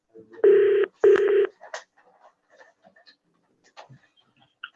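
A telephone rings with two loud, close bursts in quick succession in a quiet room, followed by faint small clicks and rustles, with no talking.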